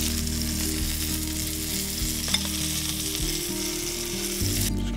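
Sliced pointed cabbage fries in a pan with orange, soy, salt, pepper and hot chutney, sizzling steadily and loudly up close while being stirred, with a few soft scrapes over the constant crackle.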